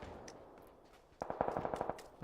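Automatic gunfire in a competitive online shooter match, a quiet stretch followed by a rapid burst of shots, fairly faint and with no talk over it.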